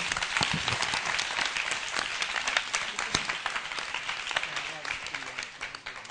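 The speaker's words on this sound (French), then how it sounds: "tous vous applaudir très fort" Loud audience applause fills a karaoke singing competition launch event, steady dense clapping throughout with some voices and crowd noise mixed in.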